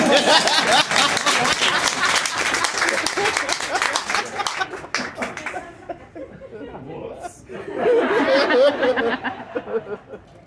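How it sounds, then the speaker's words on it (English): An audience at a magic show applauds for Stephanie, a crowd clapping with scattered chuckles and chatter. The applause fades to near quiet, then another burst of clapping rises near the end. "Everyone give Stephanie a big round of applause."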